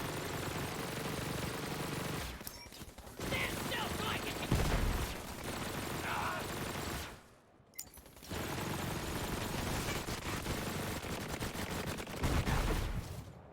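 Spinner minigun in Borderlands 3 spinning up and firing long rapid bursts, loud and continuous, broken by a brief gap, with game effects layered over it.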